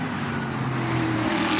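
GT race cars at Spa during the 24-hour race, driving uphill with a loud, continuous engine roar and a steady tonal drone that swells slightly toward the end.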